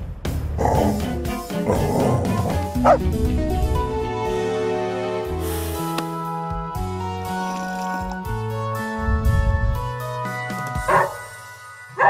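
In a children's story, a puppy gives a string of yipping barks and whimpers over a light musical backing, repeating at intervals throughout.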